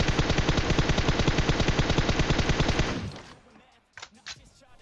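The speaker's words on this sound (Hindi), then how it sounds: "लेकिन गोली चलाना रोकता नहीं" Gunfire in a video game: a rapid, evenly spaced machine-gun burst rattles loudly for about three seconds, then stops. A pause follows, then a couple of separate sharp shots.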